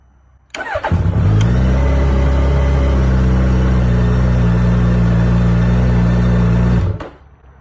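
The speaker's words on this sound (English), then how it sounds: "we need to start the engine" A Suzuki GSX-S1000GT motorcycle engine cranks, catches and settles into a steady, loud idle close by, then cuts off abruptly after about six seconds, with no talk.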